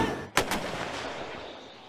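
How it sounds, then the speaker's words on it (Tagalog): An artillery cannon booms once during a joint live-fire exercise of the Philippine Army and Navy in Ilocos Norte, giving a sudden loud blast followed by a long, rumbling outdoor echo. "Sunod-sunod na putok ng kanyon ng umalingaw-ngaw sa pagsisimula ng Joint Live Fire Exercises"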